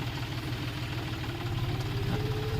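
A steady tractor engine idles up close in a rain-flooded field, a low rhythmic chug with a constant rumble that holds even throughout, with no talking.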